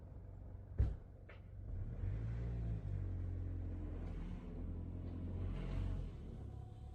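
A car driven slowly over forest ground toward concrete blocks, its engine rumbling low and steady throughout with a sharp knock near the start, close by and without voices.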